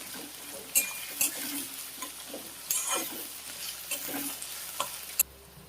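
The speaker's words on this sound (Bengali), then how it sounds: "তো এখন এটাকে ভালো করে নাড়াচাড়া করে নেব, লাল লাল করে ভাজতে থাকবো" Chopped onions frying in a pan while being stirred until reddish-brown, a low continuous sizzle broken by scraping spatula strokes and occasional sharp clinks of utensil on metal.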